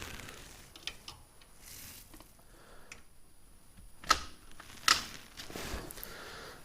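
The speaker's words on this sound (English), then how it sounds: "Get this last bolt out." A bolt being worked loose on a jacked-up Can-Am XMR 850 with its tires off gives a few light metallic ticks and clicks, with two sharper close clacks standing out over a quiet background.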